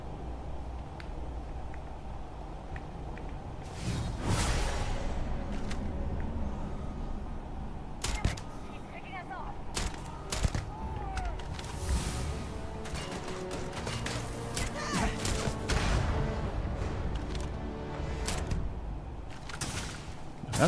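Explosions and gunfire during combat in the video game Starfield, with repeated sharp bursts and booming blasts over a dense, steady background of game noise, loud and close throughout.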